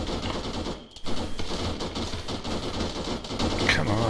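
Rapid automatic gunfire from an Arma multiplayer battle, dense sustained bursts and overlapping shots at close to mid range with a brief lull near the start.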